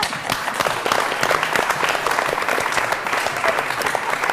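A studio audience at a televised sports talk show breaks into dense, steady applause, loud and close, lasting several seconds without pause.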